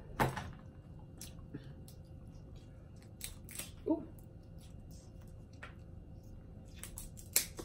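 Several crisp, short snips of scissors cut at irregular intervals over a quiet room hum, close and fairly soft.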